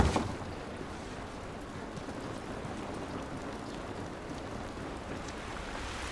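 Steady rain pours in the video game The Last of Us, a dense even hiss of drops spattering surfaces, close and constant throughout with no voices.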